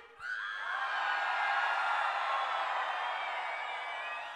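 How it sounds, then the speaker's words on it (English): A large concert crowd at a live DJ show screams and cheers on cue, a dense, sustained roar of many voices swelling quickly and holding loud for several seconds. "Okay, scream!"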